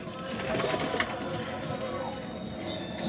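Racing pigeons coo softly and steadily nearby, with a faint rumble of background noise underneath.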